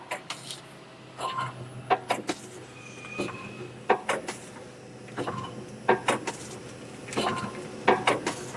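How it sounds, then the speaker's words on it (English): An LD-320D/380D automatic packing machine runs on its own, giving off repeated clacking and whirring mechanical bursts at a steady cycle over a low hum, close by and with no talking. "then the machine is automatically running right now"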